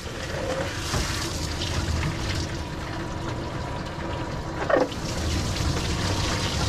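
Plain tap water runs steadily while a tiny Yorkie is rinsed during grooming, a continuous splashing stream with a brief louder gush near the end and no talk.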